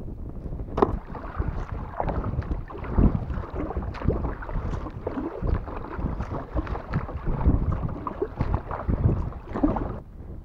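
Gusty wind on the St Lawrence River during a fishing trip, roaring and buffeting the microphone continuously with irregular thumps and knocks, close and fairly loud with no speech.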